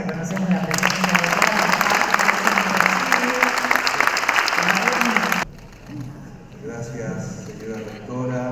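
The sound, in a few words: audience applause welcoming a guest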